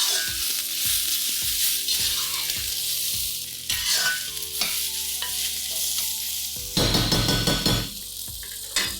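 Garlic cloves and chopped green chillies sizzle steadily in a hot pan, with repeated close scraping and stirring strokes, metallic utensil clinks, and a louder burst of frying near the end.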